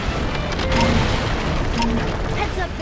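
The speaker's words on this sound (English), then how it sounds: "The ceiling's totally coming down!" A ceiling caves in during a Ben 10 Ultimate Alien: Cosmic Destruction game, with loud rumbling crashes and booming debris that go on without a break, heavy and close, mixed with game voices.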